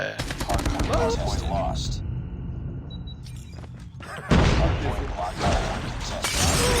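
Gunfire in a multiplayer video game arrives as sharp cracks and thuds in several bursts, with a sudden loud impact partway through, while excited players talk and shout over it.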